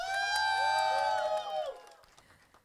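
Audience at a film premiere whooping and cheering, high shouted voices held loud for a moment and then falling away into quiet.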